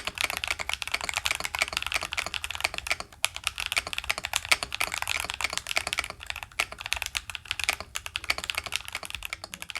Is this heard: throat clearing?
no